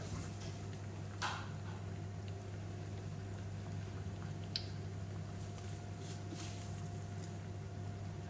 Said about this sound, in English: heated our oil up to 170 degrees, and now we're just going to pop that straight into the pan